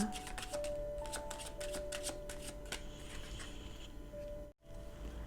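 Tarot cards being shuffled by hand, a quiet, close, rapid series of crisp riffling flicks and taps with a brief pause near the end.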